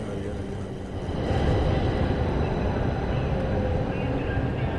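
Train in the video game The Darkness: a steady, loud low rumble of rolling carriages that swells after the first second and holds as a continuous dense roar.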